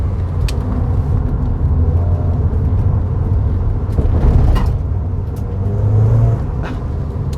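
A Puma-engined Ford Fiesta track car rumbles steadily from inside the cabin through a corner, its engine note droning low and loud, swelling briefly twice, with no talk.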